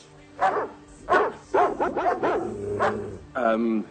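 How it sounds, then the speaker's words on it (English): A dog on a fairy-tale stage set barks and yips in several short, loud bursts spread across a few seconds, with people talking around it. "How would you like for my dog here, Herbert Al-Shmatar, to attack a little bunn"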